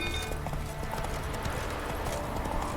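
Horse hooves clip-clop steadily in The Witcher III video game, a continuous galloping patter with a faint whinny under a busy, noisy ambient background.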